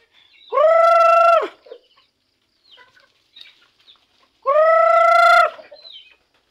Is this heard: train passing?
no